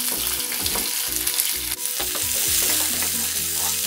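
Chopped tomato with chillies and curry leaves sizzling and frying steadily in a pan for radish sambar, with occasional stirring clatter, close and continuous, with no voices.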